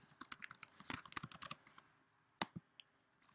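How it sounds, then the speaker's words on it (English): Typing on a computer keyboard, a quick burst of close, crisp key clicks followed after a pause by a few scattered taps, quiet and with no talking. "I would type temporary contact and type in my information"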